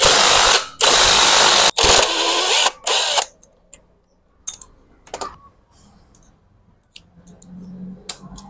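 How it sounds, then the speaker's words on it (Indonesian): A 12 mm socket on a ratchet wrench loosening a cover bolt on a Yamaha Mio Sport motorcycle engine, heard as several loud, close ratcheting bursts followed by quieter clicks, clinks and handling noises, with no talk. "tinggal kita lepas menggunakan buah sok 12"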